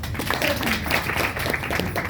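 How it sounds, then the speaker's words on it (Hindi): An audience at an ALTOS product testimonial gathering claps, a dense, continuous patter of hands at moderate volume throughout. "इसके लिए मैं शानदार ताली चाहूँगी"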